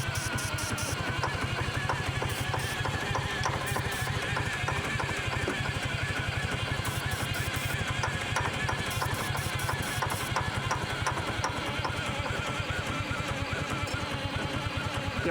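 Old Euclid scraper diesel engine, rusty and freshly started, idling with a steady low rumbling throb and a fast rhythmic knock, continuous and close throughout.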